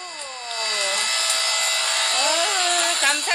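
A hydraulic log splitter works through firewood in winter, its pump giving a loud, close whine that rises and bends in pitch as the load changes.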